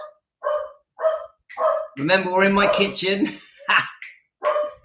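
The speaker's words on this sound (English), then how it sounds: "I can hear the dogs." Dogs bark in a home kitchen: a run of sharp, close barks, with someone talking over part of them.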